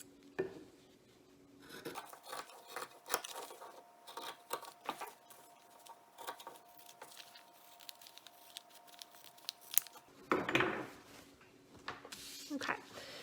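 Scissors snip and rasp through paper while cutting around a face mask pattern, giving a run of close, quiet, irregular crisp cuts with soft rustling between them.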